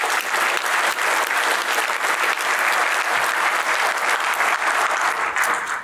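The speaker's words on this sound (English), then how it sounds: "Let's give some applause." Sustained applause from a large audience at a health-data research community conference, dense steady clapping throughout with no voices over it.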